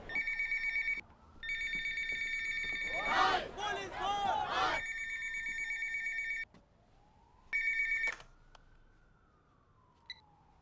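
An electronic telephone rings in long repeated bursts while a siren wails underneath, and a voice cuts in briefly partway through.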